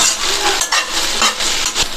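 Spice masala and chopped curry leaves are stirred in a pan as they fry, a spoon scraping in repeated strokes over a loud, close sizzle, with no talking.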